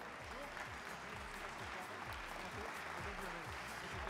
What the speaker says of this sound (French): j'aimerais une grande salve d'applaudissements pour encourager tous les candidats